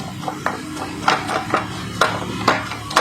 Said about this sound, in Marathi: व आता हे थोडे वाटाणे यामधील स्मॅश करून घ्यायचे आहेत.